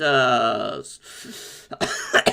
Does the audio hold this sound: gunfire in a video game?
no